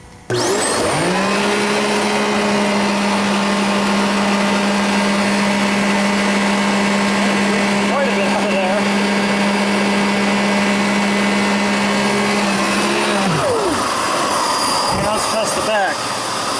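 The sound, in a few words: Simplicity Riccar vacuum cleaner running during a HEPA particle test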